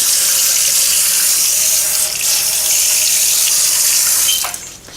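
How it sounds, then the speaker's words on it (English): Tap water runs steadily as a knife and wooden cutting board are rinsed under it at a kitchen sink, a loud continuous splashing gush that shifts briefly near the end. "I want to just rinse my knife, and I'm just going to wash my cutting board"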